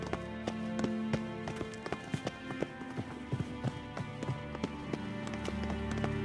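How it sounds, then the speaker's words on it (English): Footsteps of several horses clip-clop on hard ground in a medieval game scene, irregular and overlapping at a moderate distance, with a steady ambient bed beneath them. "Footsteps."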